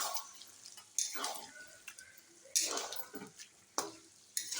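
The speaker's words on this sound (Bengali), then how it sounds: "এঁচোড়টা ঢেলে এখন এঁচোড়টা আমি ভালো করে কষবো" Chopped jackfruit with spices is stirred and fried in a pan for a Bengali kathal kalia, giving scraping spatula strokes over soft sizzling, with intermittent bursts of louder frying at close range.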